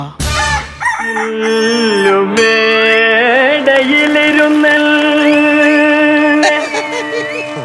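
A performer in a comedy skit imitates a rooster crowing as a robotic rooster, giving a loud, sustained, warbling electronic-sounding crow that rises and bends in pitch for several seconds.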